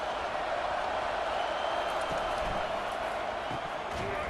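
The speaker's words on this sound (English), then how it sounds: "this crowd is turning it up a notch" A stadium crowd in College Football 25 at Clemson versus South Carolina keeps up a steady, diffuse roar of cheering, a broad wash of noise from the stands with faint thumps underneath.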